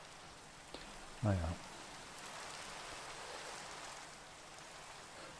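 Steady rain pouring in the Minecraft video game, a constant soft hiss of water filling the whole stretch, with a brief spoken word rising above it early on.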